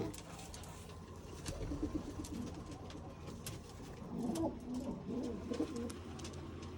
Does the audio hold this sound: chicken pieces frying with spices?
no